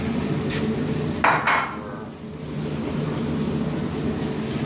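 Bacon dropped back into a pot of jambalaya with cured smoked ham and andouille gives a brief burst of sizzle, then settles into a steady, moderately loud frying hiss with light stirring.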